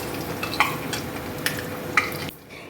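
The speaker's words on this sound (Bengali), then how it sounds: "তারপরে গরম তেলের মধ্যে দিয়ে দিলাম পেঁয়াজ কুচি" Chopped onion frying in hot oil in a home kitchen for a chicken and potato curry, a steady close sizzle with several sharp utensil scrapes and clinks, cutting off abruptly near the end.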